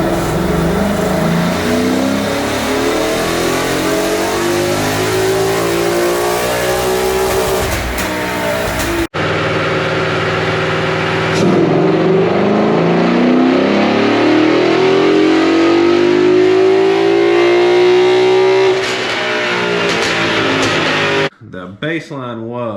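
A 2012 Ford Mustang GT on a dyno during a baseline run revs hard, its engine note climbing loud and sustained through the gears, then a second long pull rising steadily before cutting off abruptly.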